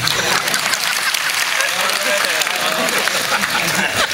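A large kirtan audience claps in dense, sustained applause that fills the hall, while a voice continues speaking over it.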